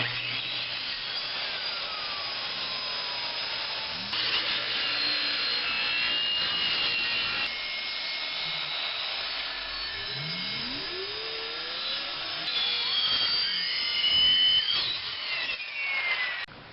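A power saw rips through a plywood board for a household wheelchair ramp, a steady loud whine with pitch shifts as the blade loads and eases, running continuously without any talk.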